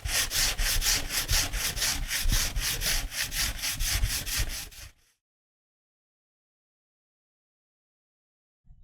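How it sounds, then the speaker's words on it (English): Sanding the wooden surface of an old, rusty bread cutter during a restoration: loud, rhythmic back-and-forth scraping strokes for about five seconds, then abrupt silence. "fill them with wood glue and afterwards sand this surface"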